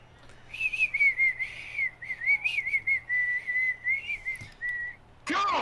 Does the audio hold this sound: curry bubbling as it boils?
no